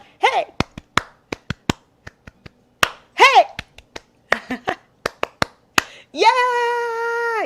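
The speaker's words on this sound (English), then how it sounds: "I hope that you clapped with me." Sharp hand claps in a counted rhythm, several groups of claps spaced by short pauses, with voices cheering briefly between them and a sustained tone at the end.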